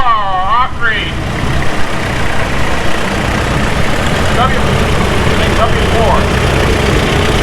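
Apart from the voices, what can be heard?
vintage tractor engine idling at steam thresher show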